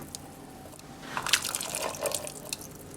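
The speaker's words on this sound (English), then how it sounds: "Next, we're going to add 2 15-ounce cans of black beans" Two 15-ounce cans of black beans tip into a pot of creamy chicken tortilla soup, making a soft wet pour of splashing liquid and plopping beans, close and moderately quiet, with no talking.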